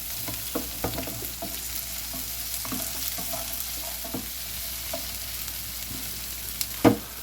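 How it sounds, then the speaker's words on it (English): Green peppers and onions frying in a pan for a pulled pork hoagie, with a continuous close sizzle under scattered scraping stir strokes and a sharper clank of the utensil near the end. "Now let's stir that around and get these onions cooked as well."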